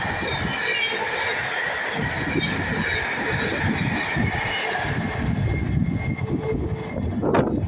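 Class 66 locomotive 66421 hauling a freight train past a station at Lancaster, a steady rumbling roar of wagons with rhythmic wheel clatter and a brief squeal near the end, fairly close and with no talking.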